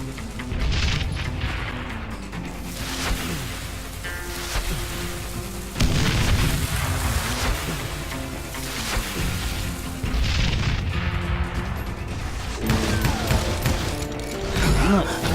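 Grenade explosions in the video game Call of Juarez Gunslinger: heavy booms and crashes burst out repeatedly over dense, continuous combat noise and music.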